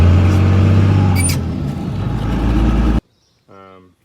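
A high-mileage 24 valve Cummins diesel truck doing brodies, a loud, rough engine roar with tire and wind noise that swells and recedes for three seconds before cutting out, followed by a brief shout.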